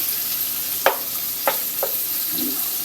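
Shrimp paste sautés with tomatoes in a hot pan, giving a steady close sizzle with a few sharp stirring clicks and scrapes.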